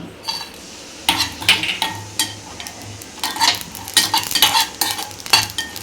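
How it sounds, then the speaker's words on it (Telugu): Grated coconut with poppy seeds and black peppercorns is stir-fried in a pan, a utensil scraping in quick repeated strokes over a soft sizzle, close and fairly loud with no talking. "కొబ్బరి కొంచెం వేగిన తర్వాత ఇప్పుడు గసాల్ మిరియాలు 2 కలిపేస్తున్నా."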